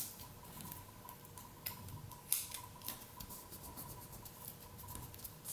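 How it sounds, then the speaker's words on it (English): Scissors cut a strip of magazine paper in a quiet room, with a run of faint, close snips and soft paper rustles at a steady pace. "Again, cut my magazine strip."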